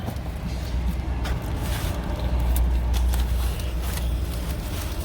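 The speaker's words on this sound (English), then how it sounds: "Obviously a truck just came in." A truck pulls in close by, its deep, steady engine rumble filling the background and swelling slightly midway, with no one talking.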